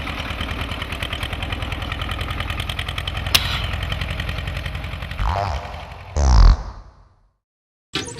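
A tractor engine idles with a steady, rapid, close chug. Near the end a couple of louder bursts rise over it before the sound cuts to a brief silence.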